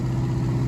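A vintage Australian-built tractor, made in Geelong, runs in a steam rally parade at Lake Goldsmith, giving a steady low, droning engine hum with a faint rhythmic pulse, loud and close, with no voices over this short stretch.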